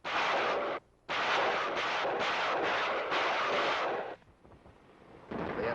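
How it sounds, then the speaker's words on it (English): Rocket launchers laying down a barrage in wartime Korea: a dense, continuous roar of rapid booming blasts, with a brief gap partway through and a quieter stretch after the main salvo. "the rocket launchers move in and lay down a barrage"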